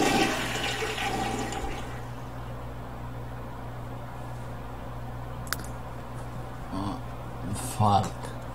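A toilet flushing in The Sims video game, a rushing whoosh at the start that fades into a steady hum, with brief voices and game sounds near the end.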